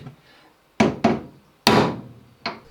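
A hammer drives a punch into a Land Rover Defender door hinge in four sharp metallic blows, close and loud, the first two quick together, then a pause, a heavier strike and a lighter final tap.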